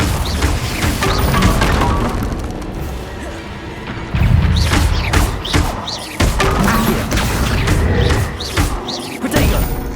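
Confringo fire-blast spells strike and explode during combat in Hogwarts Legacy, with loud repeated crashes and booms over dense, continuous battle noise and no pause between impacts.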